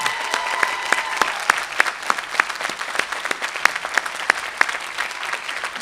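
Audience applause at a medical school class day ceremony, lively clapping with distinct individual claps standing out from the crowd, continuous and fairly loud for about six seconds.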